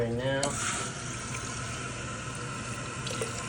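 Water runs steadily through a hose inside a toilet tank to fill the bowl, a close, hissing trickle that starts after a short mechanical sound and continues at a low level.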